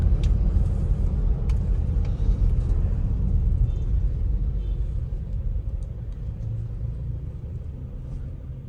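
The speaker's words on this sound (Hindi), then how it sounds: "After tapping the throttle car थोड़ा सा टाइम लेती है उठने में।" An MG Gloster SUV in eco mode picking up speed after a throttle tap, heard as a steady low engine and road rumble from inside the cabin with no talk.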